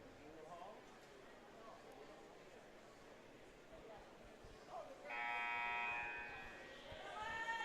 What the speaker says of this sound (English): Buzzer goes here.